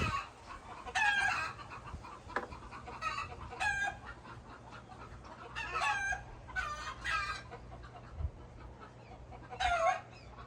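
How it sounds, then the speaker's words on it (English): Chickens cluck in repeated bursts with a rooster crowing several times, moderately distant, over a quiet outdoor background. "them chickens getting on my nerves"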